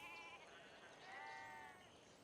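Sheep bleat inside the strategy game Civilization 5, a faint wavering cry that rises and falls twice, quiet and alone with no voices over it.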